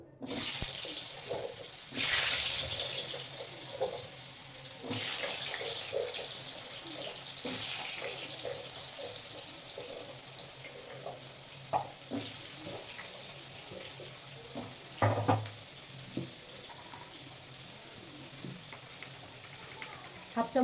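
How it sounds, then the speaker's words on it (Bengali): Potatoes and other vegetables go into hot oil and set off a steady sizzling hiss with scattered crackles and pops, while someone talks over the cooking throughout. "তেলটা গরম হয়ে গেছে এবার সবজিটা দিয়ে দেবো দিয়ে দেবো প্রথমে আলু"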